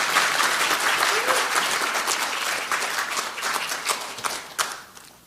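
Loud close applause from an audience at a new party members' academy, dense rapid clapping throughout that gradually thins toward the end, with individual claps standing out.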